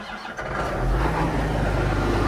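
A vehicle engine cranks briefly and fires up, then settles into a loud, steady rumbling idle close by, with no talk.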